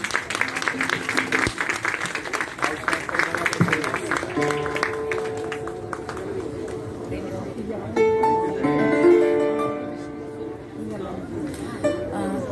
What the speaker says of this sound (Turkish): Sizin alkışlarınız gerekiyor değil mi?